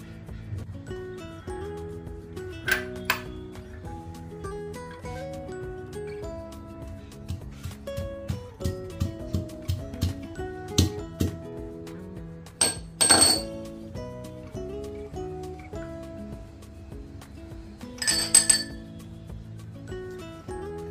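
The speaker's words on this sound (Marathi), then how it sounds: "20-25 लसणाच्या पाकळ्या सोलून घेतल्या, या ठेचून घेते।" 20 to 25 peeled garlic cloves are coarsely crushed with a pestle while making fried poha chivda. Scattered clinking, knocking strikes come in bursts over a steady musical background.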